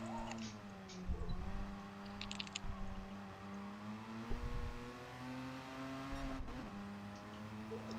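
A race car engine revving in a racing video game, a steady droning tone that climbs and drops through gear changes, with brief sharper bursts and tyre noise, fairly quiet overall.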